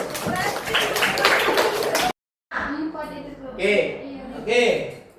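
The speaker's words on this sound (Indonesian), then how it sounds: "Beri tepuk tangan untuk mereka yuk." A high school class in Indonesia breaks into applause for classmates, a dense burst of clapping lasting about two seconds. After a short silence, a teacher talks to the room.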